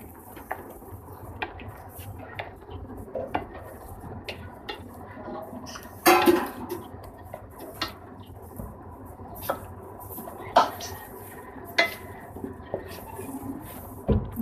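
Meat is stirred with salt and spices in a pot for Lahori namkeen gosht: scattered metallic scrapes and clinks of a spoon against the pot over a quiet, low background, with no talking.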